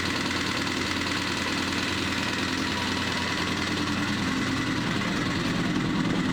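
A Suzuki RF900 motorcycle engine idles steadily while warming up after being revived, a continuous rough, loud mid-to-low rumble with slight knocking and vibration and no talk over it.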